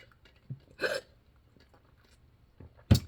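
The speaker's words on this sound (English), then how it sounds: "I got the hiccups already" Several short hiccups from a woman, a soft one, a longer one, then a sharp loud one near the end, with quiet pauses between.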